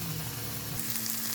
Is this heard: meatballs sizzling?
yes